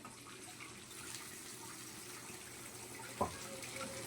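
A steady stream of water pours into a pan of jaggery for sweet pongal, a soft continuous rush with a single small clink near the end.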